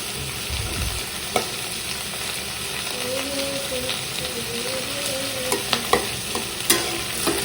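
Chicken pieces for chili chicken sizzle in hot oil while a spatula stirs them, a constant close frying hiss broken by sharp scraping clicks of the metal against the pan.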